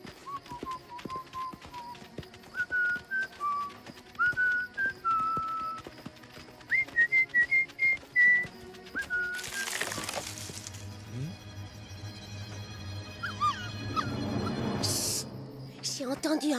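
In a Strawberry Shortcake cartoon, a strange, wavering whistled tune of short separate notes plays. It is followed by a whoosh and clattering hoofbeats.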